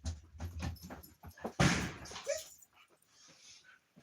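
Puppies whimper and let out short yips in a quick, uneven run of close, small cries, followed by quieter whines.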